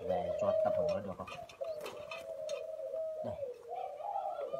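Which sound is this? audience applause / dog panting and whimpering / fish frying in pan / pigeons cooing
pigeons cooing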